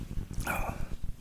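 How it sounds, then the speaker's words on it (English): Dogs bark inside a house in a played-back recording, a short burst of a couple of barks and yips heard somewhat distant and muffled over low background noise. "You can hear the dogs in the house barking."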